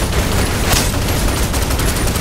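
Rapid gunfire in Snowbreak Containment Zone, a dense, continuous loud barrage of shots with no pauses, heard alone.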